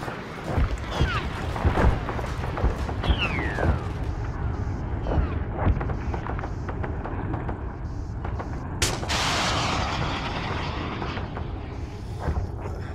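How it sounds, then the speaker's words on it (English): Rockets and artillery pound away in the military shooter Arma, a dense stretch of repeated booms, cracks and gunfire with a whistling streak, a loud blast near the middle and faint radio chatter mixed underneath. "Wait, is that friendly rockets coming through?"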